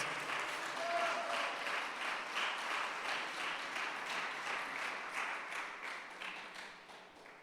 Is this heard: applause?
yes